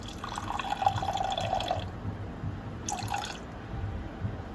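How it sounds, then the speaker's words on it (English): Water poured into a container on a kitchen scale while feeding a sourdough starter, a steady trickling pour that runs for a couple of seconds, pauses, then resumes briefly, close and fairly quiet. "I'm gonna zero out my scale and do 120 grams of water."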